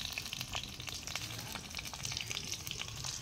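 Sliced onions and green chilies frying in a pan for a country mud crab gravy, giving a faint, steady crackling sizzle with scattered pops, heard alone.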